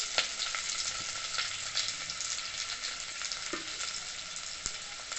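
Onion, beans, sweet corn and carrot frying in hot oil for veg paneer Maggi, a bright continuous hiss of sizzling with faint occasional clicks, moderately quiet and without talk.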